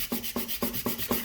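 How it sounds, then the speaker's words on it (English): A nail file scrapes back and forth across an acrylic nail. Five quick, even rasping strokes come up close and fairly quiet, with no voice. "And I'm just filing the top part up here right now."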